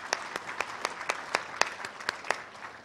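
An awards-event audience claps in a steady, fairly even rhythm, about four claps per second, moderately close and with no talk over it.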